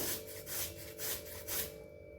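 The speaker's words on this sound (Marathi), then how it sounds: "हे गाजर आपल्याला छान असं किसून घ्यायचे" A carrot is rubbed on a small kitchen grater in four steady, rhythmic scraping strokes, quiet and close.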